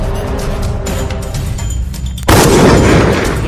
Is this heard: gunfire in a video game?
yes